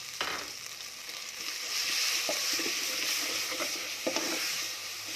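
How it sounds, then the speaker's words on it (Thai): Spice paste and chicken bones frying in boiling oil give a steady, bright sizzle throughout, with occasional clinks and stirring scrapes close by. "พอน้ำมันเดือดทอดแล้วก็เอานี่ใส่เลยเจ้าเครื่องมันใส่เลยเนาะ"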